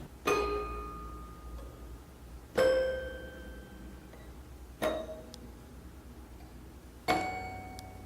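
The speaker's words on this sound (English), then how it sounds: "Plucking the tines creates a really interesting ringing sound." Four separate plucks of metal tines on a wind-up elephant toy, each a bright twang that rings out and slowly decays, spaced about two seconds apart.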